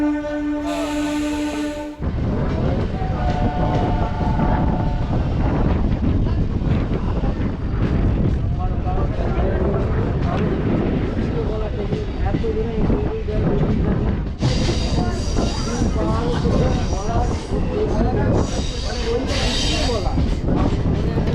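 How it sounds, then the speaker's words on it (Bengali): A passenger train pulls away from Contai station on the Digha to Panskura line, its steady loud rumble and clatter of wheels on rails continuing throughout, with brief squeals and a rising whine midway, heard close from inside the carriage. "কাঁথি স্টেশন ছেড়ে ট্রেনটা এখন চলে যাচ্ছে"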